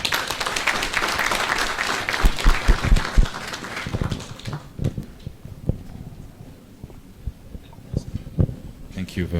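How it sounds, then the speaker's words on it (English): An audience applauds the President at an event at the Protea Hotel Skyz in Naguru. A loud, dense burst of clapping fades after a few seconds and gives way to a voice speaking amid scattered claps. "Ladies and gentlemen, a round of applause for our President."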